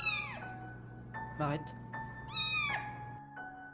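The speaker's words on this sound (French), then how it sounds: "à un moment donné, tu vas entendre un miaulement." A cat meows several times, with drawn-out rising and falling cries close by over a low steady hum, and a person says a few words between the meows.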